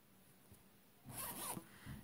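Zipper on a handmade sewn fabric pencil case being pulled shut, a single brisk rasping zip heard up close against a quiet room.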